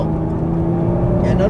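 A Nissan GT-R on a race track coming back on the throttle, its engine droning steadily and building slightly as it accelerates, with an instructor's voice talking over it.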